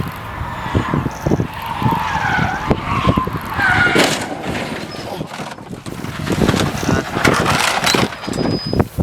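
A car drifting and skidding through a stunt run in the Faroe Islands, with tires squealing in repeated bursts over a loud, continuous engine roar while voices talk underneath.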